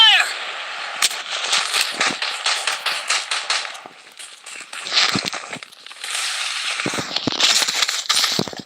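Gunfire rattles in a shooting video game, with rapid bursts and single sharp shots coming in waves. Game effects and a voice are heard underneath.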